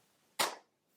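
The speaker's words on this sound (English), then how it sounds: "One more time, one clap." One sharp, loud hand clap rings out alone, followed by silence.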